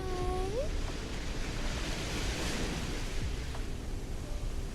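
Ocean waves roll in by a seaside Ferris wheel, a broad steady surf wash heard throughout, with a short cat-like meow at the very start.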